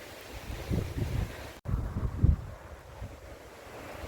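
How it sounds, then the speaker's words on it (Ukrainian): Strong wind in the Netherlands buffets the microphone in gusty, low rumbling surges, with a brief dropout midway. "такий вітер розігнав усі хмари"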